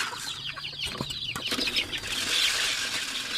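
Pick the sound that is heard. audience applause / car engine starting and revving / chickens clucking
chickens clucking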